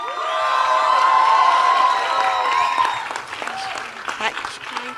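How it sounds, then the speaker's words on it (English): Loud, sustained applause from a large crowd with some cheering and whistles, swelling then thinning into scattered clapping near the end. "Can we have a huge round of applause?"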